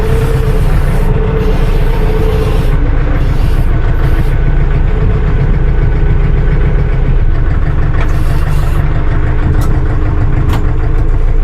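A loud, steady Kentavr 404 tractor engine idles continuously, a low rumbling chug with no voices.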